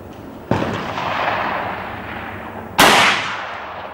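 A Smith & Wesson 686 .357 Magnum revolver firing .38 Special rounds at an outdoor range lets off two sharp, loud shots a little over two seconds apart, each followed by a rolling echo that fades.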